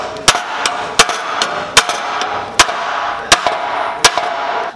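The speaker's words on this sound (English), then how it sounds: "I'm gonna try to hit it as hard as I can on these pieces first" A hammer strikes a car's body panel at a spot weld on a Mitsubishi Evo X radiator support, giving about eight sharp, loud metallic blows at a fairly even pace.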